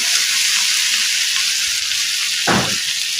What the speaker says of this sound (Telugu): ఇప్పుడు టమాటా ముక్కలు వేసుకోవాలి. దీంట్లో కొద్దిగా పసుపు వేసుకోవాలి.